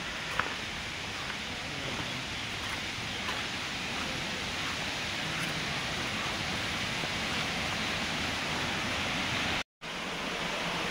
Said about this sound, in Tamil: இங்கே வந்து அருவி ஊற்றுற சவுண்டு கேட்குது